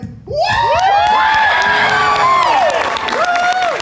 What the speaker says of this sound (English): I don't get that kind of applause just for me